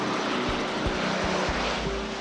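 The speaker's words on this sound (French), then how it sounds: "on va couper la propagation avec le largage au moyen de l'avion" A firefighting airplane passes over a wildfire near Marseille, its propeller engine a steady loud drone with rising and falling tones, alone with no voices.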